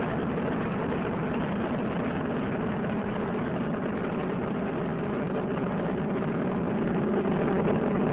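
Space Shuttle Discovery's three main engines roar during launch ascent, a dense, steady, unbroken rumble heard alone throughout.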